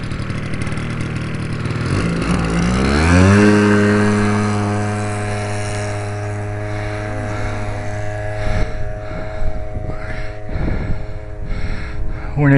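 A converted chainsaw engine powers a giant ModelTech RC Piper Cub, droning loud and steady as it revs up and settles into a sustained buzzing hum, with a few sharp knocks and handling noises near the end.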